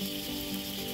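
Pork sizzling and frying on a Thai mookata grill pan at a mountaintop lodge dinner, a steady dense crackling hiss that fills the whole second with no talk.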